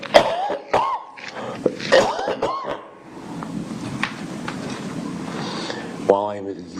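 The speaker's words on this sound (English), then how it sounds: "I have a cough." A woman coughing in a courtroom hearing: several harsh, close coughs and throat clearing in quick bursts, mixed with speech and some room noise.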